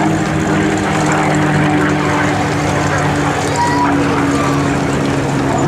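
A propeller warbird, a P-51 Mustang, flies past at a military open-house airshow, its steady engine drone loud and continuous throughout, with crowd noise and faint talk underneath.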